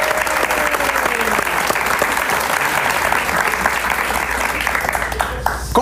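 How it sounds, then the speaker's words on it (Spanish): Studio audience applause on a Spanish-language talk show, steady dense clapping from a crowd filling the room for several seconds, fairly loud and without talk over it. "Un aplauso para él, por favor."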